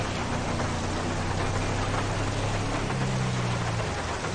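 Steady rain in Grand Theft Auto V during a police patrol, a dense even hiss of falling water filling the whole scene with a low vehicle rumble underneath and no talking.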